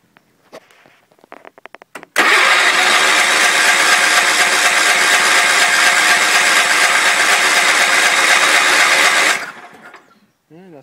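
A 1974 Sears Suburban SS16 garden tractor engine cranks with the throttle wide open and the choke off during a compression test: a loud, steady cranking drone lasting about seven seconds before cutting off, preceded by a few faint clicks.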